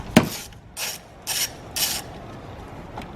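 A ratchet loosens the positive battery terminal nut on a 2014–2019 Kia Soul, heard as four short close bursts of clicking and rasping spaced about half a second apart, followed by a faint final tick.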